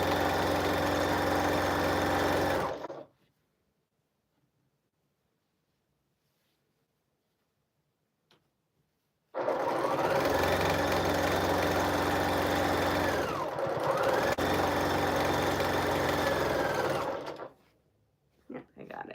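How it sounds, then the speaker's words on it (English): A sewing machine stitches fabric for a quilt pattern in steady, loud motorized runs, with a burst of about three seconds, a long silence, then a longer continuous run of roughly eight seconds that briefly dips midway. "this is really sewing like butter"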